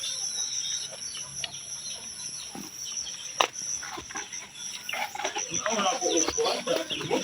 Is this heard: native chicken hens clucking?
yes